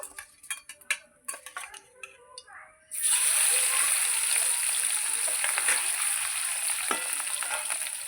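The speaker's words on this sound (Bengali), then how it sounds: "খুব ফুটছে মাছগুলো" Tangra fish frying in a pan for a Bengali radish-and-tangra curry: a few soft clinks and small splashes, then a loud, steady, close sizzle and bubbling that fills the rest of the clip.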